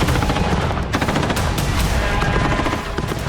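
Loud, dense bursts of automatic gunfire and rapid shots ring out during street fighting in Kursk, a continuous close fusillade filling the whole stretch.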